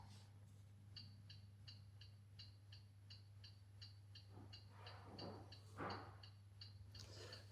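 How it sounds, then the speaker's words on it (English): A Bluetooth watch ticks steadily while its light flashes, a faint, even series of small clicks repeating about twice per second over a low hum, with some soft rustling handling noise partway through. "it will tick several times whilst the light's flashing"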